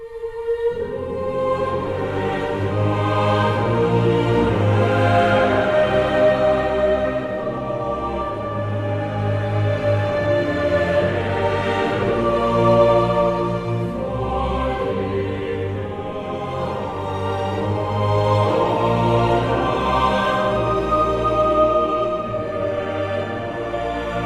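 Layered World of Warcraft: The War Within soundtrack music plays continuously, a full ambient orchestral texture with steady rhythm and swelling passages, no voices.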